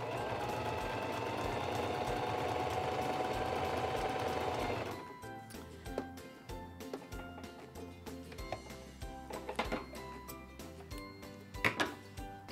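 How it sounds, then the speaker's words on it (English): A Singer 2273 Esteem II sewing machine runs a zigzag stitch in one steady, loud stretch of about five seconds, then stops, leaving softer scattered ticks and handling clicks. "lower the presser foot, and sew."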